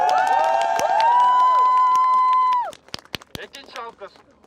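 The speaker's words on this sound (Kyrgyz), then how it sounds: "Алкыш сизге!" A large crowd at a political rally cheers and shouts loudly and steadily for nearly three seconds, then breaks off into scattered sharp claps and short bursts of noise.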